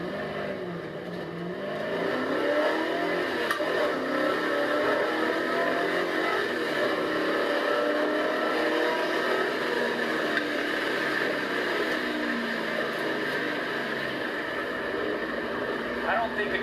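A car tuned with an Edelbrock carburetor launches and accelerates, its engine drone rising and holding steady at a moderate distance for many seconds, with a voice briefly audible near the start.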